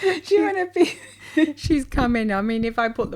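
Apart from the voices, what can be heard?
No distinct noise like a dog, phone or traffic.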